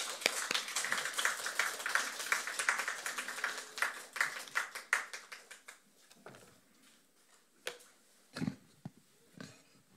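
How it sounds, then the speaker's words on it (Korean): A church congregation at Sunday morning worship claps warmly to welcome the preacher to the pulpit, brisk applause that thins into scattered claps and fades, followed by a few isolated knocks and taps. "우리 주님의 사랑 안에서 뜨거운 박수로 우리 환영하겠습니다."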